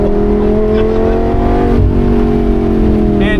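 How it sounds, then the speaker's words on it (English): A 600 HP 2014 Lamborghini Gallardo Performante accelerates hard on a race track, its engine a loud, close, sustained roar with steady rising tone and no talk. "and now we accelerate"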